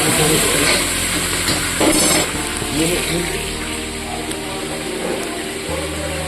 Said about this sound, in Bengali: এবার এটাকে সুন্দরভাবে ফ্রাই করতে হবে